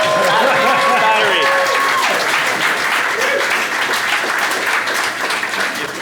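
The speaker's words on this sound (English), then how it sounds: "So nice of you to clap for us." A live podcast audience gives a full round of applause, dense and steady, with voices and cheers over the start before the clapping gradually thins.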